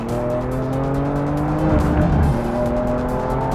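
A BMW M car slides through a corner on a race track, its rear tires squealing in long, wavering tones over the rising engine note. The squeal swells near the middle and stays loud and close throughout, with no talk.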